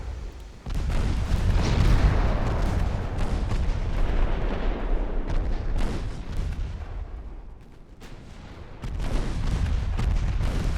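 Heavy 11-inch naval guns fire in an Ultimate Admiral Dreadnoughts battle between German and British pre-dreadnought warships: a continuous barrage of loud, deep booms and blasts with repeated sharp reports, dipping briefly before resuming at full intensity.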